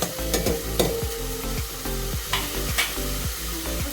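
Masalas sautéing in a pan for coconut rice: a steady sizzle runs throughout, broken by repeated, evenly spaced scrapes and knocks of a spoon stirring close up. No voices.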